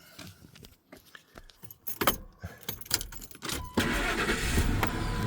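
A 2003 Ford F-150 pickup with a 5.4 engine: keys jangle and click in the ignition, then the engine cranks and catches, settling into a steady, close idle rumble.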